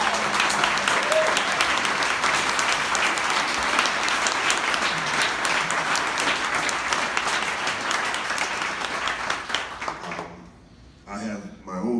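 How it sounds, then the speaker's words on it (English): Audience applause for student big band jazz musicians, a full, sustained wash of clapping that fades after about ten seconds before a voice begins speaking. "Please give these incredible musicians a round of applause."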